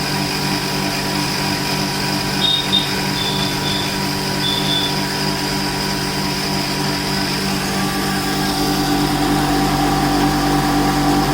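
An S.S 2-in-1 pulverizer grinding machine runs steadily with a loud, even mechanical hum and high whine, close by and alone, holding constant throughout.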